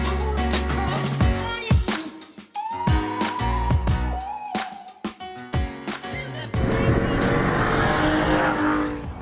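A Mercedes S600 with a V12 engine drives along, its engine and road noise loud and shifting throughout, with a fuller roar building toward the end.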